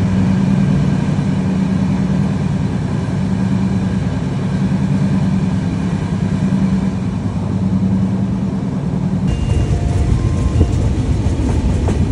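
The Ruposhi Bangla Express passenger train rumbles steadily along the tracks from Dhaka to Benapole, a loud continuous roar with a low hum and rhythmic rattling of the carriages, close and unbroken.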